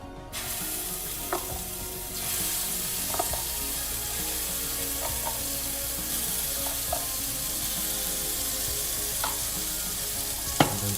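Mustard-based spice paste with turmeric and sugar sizzles steadily in a hot pan for an eggplant and mustard seed curry, with occasional light clicks of stirring and no talking.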